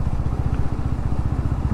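A TVS Ronin motorcycle rides along near the Paradeep fishing harbour in Odisha, its engine thumping in a quick, steady pulsing beat, loud and close, with no talking over it.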